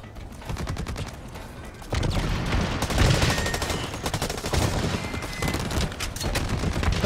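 Light machine guns fire in a video game as long, rapid automatic bursts, close and loud, with staccato shots rattling nearly continuously and swelling in intensity after the first couple of seconds.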